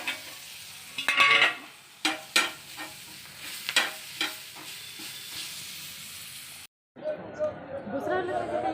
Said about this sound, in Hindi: यहाँ पर मेरा मिर्च बन रहा है